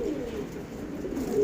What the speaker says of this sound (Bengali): বৃষ্টি হচ্ছে, বৃষ্টির ভিতরেই ভিজে ভিজে কবুতরগুলোকে খাবার দিচ্ছি।